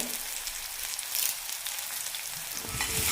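Green chilli, garlic, curry leaves and onion sauté in hot oil for a drumstick tomato curry, giving a steady, close crackling sizzle with a few stirring scrapes and a louder burst near the end.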